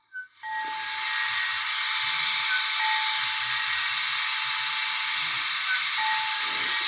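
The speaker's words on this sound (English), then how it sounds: "There's a full-on reverser sound effect for when you swap her directions." Loud, steady steam-like hiss from a Rapido model steam locomotive in the Wisbech and Upwell train pack, a sustained reverser sound effect with faint whistle-like tones, starting abruptly and running continuously, no talking.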